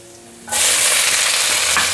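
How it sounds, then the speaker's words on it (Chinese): Bell peppers hitting a hot pan of ginger stir-fry burst into a sudden loud, bright sizzle after a quiet moment, holding a dense, close hiss with a small crackle near the end. "炒到姜丝有微焦了，现在放入甜椒"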